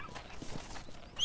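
Horse hooves clip-clop on the ground in Red Dead Redemption, a short run of soft, fairly quiet footfalls that ends in a slightly louder moment.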